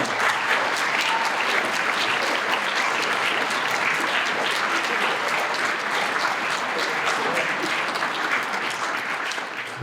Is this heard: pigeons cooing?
no